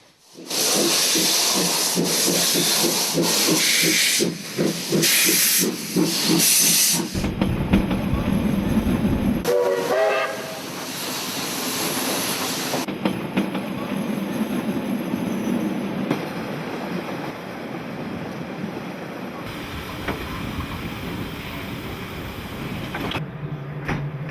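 Steam train on a mainline carrying a full load of passengers, heard as loud rumbling and rhythmic rolling with squealing wheels and a whistle-like tone, the scene cutting abruptly between sections, with faint voices at times.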